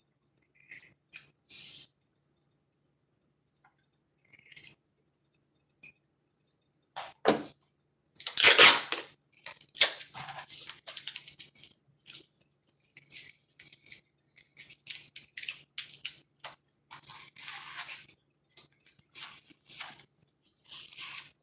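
Scissors snip and cut through material while making cat stickers on canvas, giving irregular bursts of crisp cracking and rattling clicks separated by quiet pauses, close and fairly loud.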